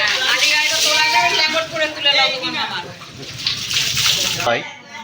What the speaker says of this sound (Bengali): এখানে বাবা স্নান করছে আর মামাও স্নান করছে